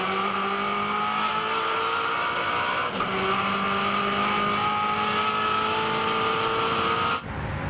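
Touring car with a 289 V8 engine races at Bathurst in a Touring Car Masters event, its engine droning loud and steady at high revs with a gear change midway, cutting off at the end.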